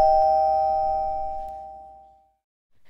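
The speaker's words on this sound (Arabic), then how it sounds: "حد بيرن الجرس الله أعلم مين اللي على الباب" A doorbell rings once with a clear chime that rings out and fades to silence, followed by a faint tonal sound at the very end.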